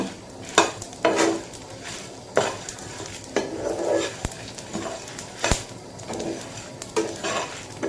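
Raw mango pieces fry in a pan for pickle, with a steady sizzle and repeated scraping, knocking stirs of a utensil against the pan, close and fairly loud, no talking.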